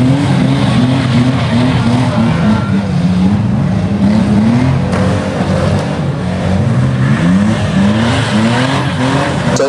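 Banger race cars at a demolition derby final at Arena Essex roar and skid around the track, a loud continuous din of revving engines with repeated tyre squeals rising and falling.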